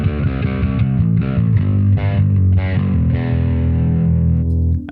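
A bass guitar driven through a distortion effect on a Neural DSP Quad Cortex plays a loud, gritty phrase of repeated notes and held tones, heard alone without voices.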